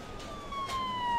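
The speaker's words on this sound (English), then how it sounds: "These sirens are just amazing." Police car sirens from the Emergency 4 video game wail steadily at moderate volume over a low, noisy background.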